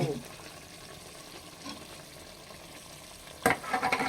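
Onion and chili masala sizzles as it is stirred into hot tempering oil in a home kitchen, a steady close frying hiss with a sharper stirring scrape near the end.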